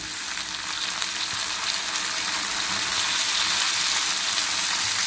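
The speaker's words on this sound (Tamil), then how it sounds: "அதையும் சேர்த்து இந்த எண்ணெயிலே வதக்க விடணும்" Half a kilo of cut brinjal sautés in hot oil, giving a dense, even sizzle that holds loud and unbroken, with no talking.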